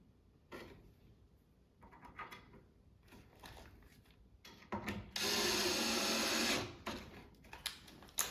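Black screws driven into a wooden farmhouse corner cubby coatrack: quiet handling clatter and knocks, then a loud whirring burst lasting over a second, followed by more taps and clicks.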